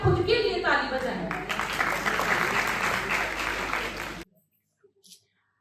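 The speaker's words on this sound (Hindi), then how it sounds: "सबसे पहले तो मैं चाहती हूँ कि आप खुद के लिए ताली बजाएं।" Women's empowerment event audience applauding steadily and loudly for about four seconds, then stopping abruptly into near silence with a faint stray sound after.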